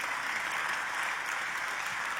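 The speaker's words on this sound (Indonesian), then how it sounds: "kita berikan tepuk tangan terlebih dulu" Church congregation applauding, a steady, even wash of many hands clapping at moderate distance with no break.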